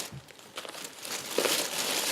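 Yarn being stuffed back into a plastic bag gives off continuous crinkling and rustling that builds louder toward the end, close up and without speech.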